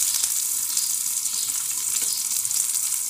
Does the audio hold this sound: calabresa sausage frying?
yes